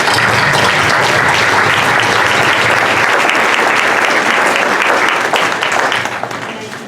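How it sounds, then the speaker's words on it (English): Loud close applause at a Newburgh school board meeting for CSEA staff, dense steady clapping that holds strongly for several seconds before tapering off near the end. "We'd like to give a round of applause to the CSEA people."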